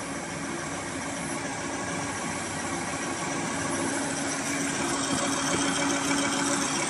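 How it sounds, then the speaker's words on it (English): An automatic KF94 fish-style mask machine with digital ultrasonic ear loop welding and a swivel motor runs at 120-160 pieces a minute, giving a steady, dense mechanical whir and hum with a faint tonal whine. "for the ear loop welding machine, we use very good digital ultrasonic, and we use the 10-piece swivel motor"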